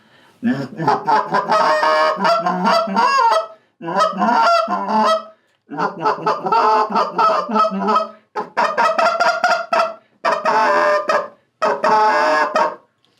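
A G-force goose call blown softly in a gravelly tone, giving a run of honks and clucking goose notes in several bursts with short pauses, close and fairly loud, with no talking.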